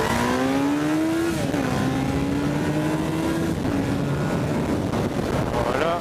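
A Honda CBR motorcycle revs up hard in loud, close bursts, its pitch rising then briefly dropping at gear changes, with strong wind buffeting throughout.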